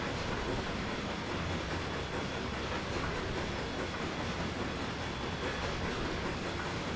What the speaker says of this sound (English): The chuff sounds are not new, I don't think.